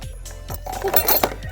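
Metal pans clink and clatter together in a few quick, close knocks, with light handling noise between them.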